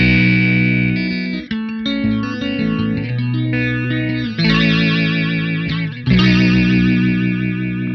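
Electric guitar chords through a Hamstead Redwing analog stereo modulator pedal with two delay lines, producing warbling chorus-like modulation and echoing repeats; several strummed chords ring out loud and alone, with no talking.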